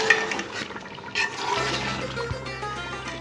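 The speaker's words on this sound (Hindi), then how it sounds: "मैं पानी ऐड कर देती हूँ" Water poured into simmering chicken korma gravy in a cooking pot gives a steady rushing, splashing pour that fills the whole moment, with a low hum joining partway through.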